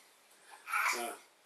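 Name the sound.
young children babbling in the background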